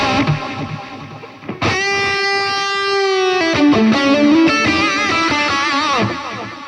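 Electric guitar played through a Fender Tone Master Pro digital modeler with a stereo echo filter effect, sustained distorted notes and chords ringing out with repeating echoes, loud and alone.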